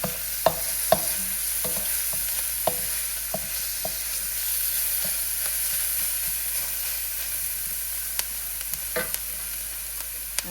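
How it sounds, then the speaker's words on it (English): Sauce added to chicken and broccoli frying in a pan, a steady close sizzle and hiss broken by the scrape and tap of a utensil stirring, with no talking. "Now we're gonna add our sauce."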